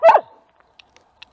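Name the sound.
dogs barking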